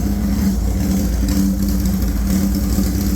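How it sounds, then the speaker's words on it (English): A 1997 Suzuki GSX-R 1100 motorcycle engine running loud and close, with a steady, rough mid-pitched drone and no pauses throughout. "I'm gonna start it up and let's see how it does here."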